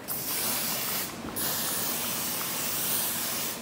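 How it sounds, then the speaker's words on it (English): Hairspray sprayed over curled hair, a steady close hiss lasting the whole stretch with one short break partway through. "I'm gonna brush to remove all these flyaways and hairspray on top."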